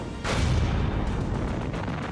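Battleship cannons firing, a heavy deep boom that bursts in abruptly and rolls on as a loud, rumbling roar with no talk over it.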